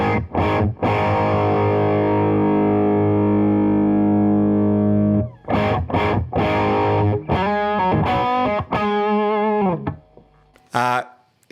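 An overdriven electric guitar with a mid-heavy, medium-gain tone, mids turned nearly all the way up and treble turned down, sustains a long chord, then plays a series of bent and picked lead notes, loud and upfront.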